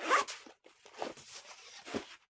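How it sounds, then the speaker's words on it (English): The slant zipper on a GORUCK KR1 kids' backpack is pulled open in several close, raspy strokes with short pauses between them, with no talking. "Opening up the slant zipper"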